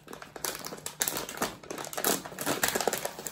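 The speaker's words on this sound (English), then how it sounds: "Use a pair of scissors and we can open our BB packet." Scissors cutting open a plastic packet of airsoft BBs, with dense crinkling and snipping crackle for a few seconds, close up, no talking.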